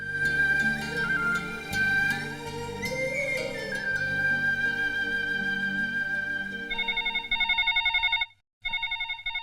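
Music plays with tonal melody, then a telephone rings in rapid repeating trill bursts near the end, loud and clear after the music fades.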